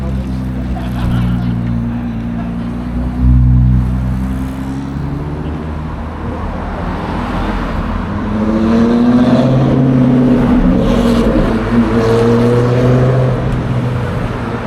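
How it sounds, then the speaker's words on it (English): Older Ferrari, about twenty years old, passes on a Tokyo street with a deep engine drone and harmonic revving that swells twice, moderately close, over steady road noise. "Gotta love that the 20-year-old Ferraris still make noise"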